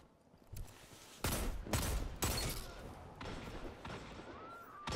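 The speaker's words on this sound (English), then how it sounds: "Who's shooting me?" Gunfire in the Destiny Trials video game, several heavy booming shots and thuds in quick succession, fairly close and loud, with faint voice chatter.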